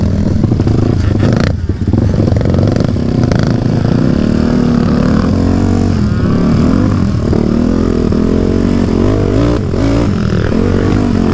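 A Kawasaki KFX450R quad engine roars at wide open throttle in the sand dunes at night, a loud, sustained, close drone with a slight wavering pitch and no voices.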